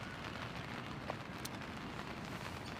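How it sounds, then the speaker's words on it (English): Rain falling outdoors at a croquet singles championship, a steady dense hiss of drops with faint scattered patters, constant and fairly quiet throughout with no voices. "And the rain's come back."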